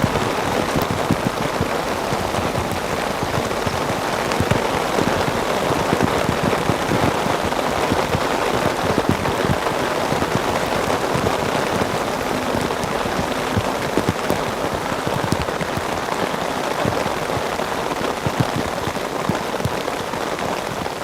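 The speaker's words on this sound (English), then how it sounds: "it sounds like the rain is slowing down a little bit" Steady rain falling and pattering on surfaces and umbrellas at an airport, a continuous dense hiss of drops lasting the whole stretch with no voices.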